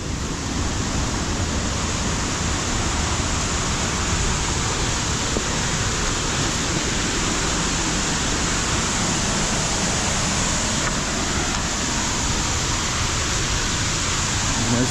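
Honorato Ferreira waterfall pours steadily onto rocks, a loud, unbroken broadband roar that stays even from start to finish with no voices.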